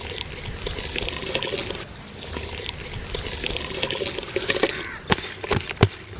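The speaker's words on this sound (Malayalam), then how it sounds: "അപ്പോൾ നമുക്ക് അതിൻ്റെ അകത്തേക്ക് അരി ഇട്ടേക്കാം." Rice is poured into boiling water with ghee for vegetable biryani, giving a close, continuous watery rush and bubbling with a few sharp splashes near the end.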